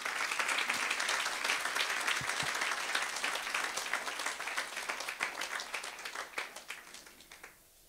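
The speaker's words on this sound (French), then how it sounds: "Et acclamons très fort le Seigneur Jésus." A church congregation at an online worship service applauds loudly and steadily, the dense clapping gradually thinning and fading out at the end.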